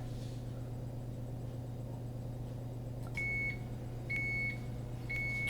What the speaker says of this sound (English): when it starts beeping, I'll come back.